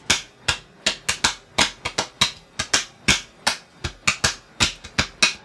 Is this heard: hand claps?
yes